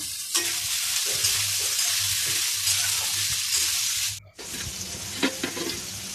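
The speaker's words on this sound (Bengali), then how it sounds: "আলুটা একটু নেড়ে চেড়ে ভিজিয়ে রাখা ছোলাগুলো দিয়ে দিলাম।" Potato and soaked chickpeas sizzle and crackle in a hot pan while a spoon scrapes and stirs, a steady frying hiss broken by a brief drop before the sizzle resumes, close and loud.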